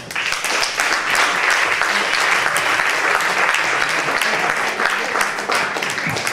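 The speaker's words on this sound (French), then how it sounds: "je vous demande d'applaudir Olivier Perrin" An audience applauds comedian Olivier Perrin at a café-théâtre show, a dense, steady wash of clapping that holds loud and even for about six seconds, with faint voices mixed underneath.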